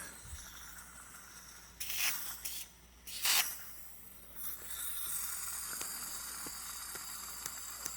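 Gas from a leaking Dunhill Rollagas lighter hisses out in two short, sharp sprays followed by a softer, continuous faint hiss, heard up close in a quiet room.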